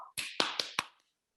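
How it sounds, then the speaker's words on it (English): A few sharp percussive strikes, a hand clap and a hit, in quick succession after a brief vocal sound, close and dry, then silence. "one was a clap and one was a hit"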